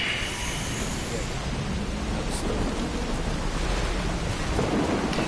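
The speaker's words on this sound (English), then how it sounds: "that storm is a little bit farther away because that one's kind of a special one" A thunderstorm in the video game Death Stranding: constant heavy rain hiss with a low rumbling of thunder, steady and enveloping throughout. A voice speaks faintly over the storm.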